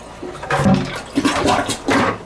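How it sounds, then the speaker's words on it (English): A toilet in a seasonal home being winterized flushes after water is dumped into the bowl, a short, loud gurgling rush of water in a couple of surges. "You can dump it in here and get most of it, flush it with the water."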